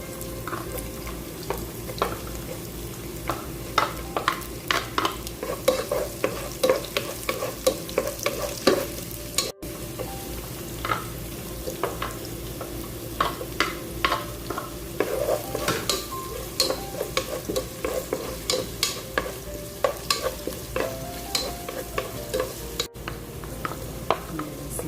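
Garlic and onion sauté in a pan for a soup, with continuous frying sizzle broken by frequent scraping and stirring strokes, near and steady, with no talk.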